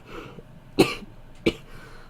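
Two sharp coughs from one person late at night, about half a second apart, close to the microphone, with quiet background and no speech.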